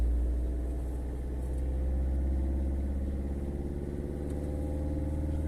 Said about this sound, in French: Le moteur il prend du régime.